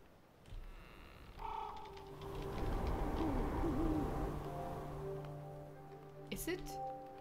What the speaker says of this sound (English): I hear the owl again.